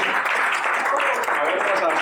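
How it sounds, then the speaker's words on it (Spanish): Audience applause greeting a guest speaker at a Bitcoin talk, a dense steady wash of clapping filling the room with no break, with some voices mixed in. "un aplauso a Diego por venir aquí"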